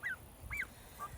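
A garden goose gives three quick nasal honks, fairly faint and a little distant, spaced about half a second apart against quiet outdoor background.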